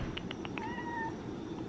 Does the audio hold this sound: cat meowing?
yes